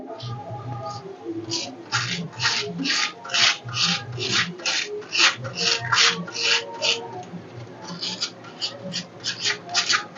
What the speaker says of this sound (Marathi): जशा पद्धतीने मशीनमध्ये बर्फ किसला जातो तशा पद्धतीनेच ह्या काट्याच्या साह्याने